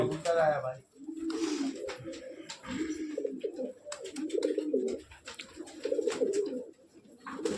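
Pigeons coo repeatedly in soft, rolling bursts at a pigeon feeding gathering, close and fairly clear, mixed with brief chirps and some background noise.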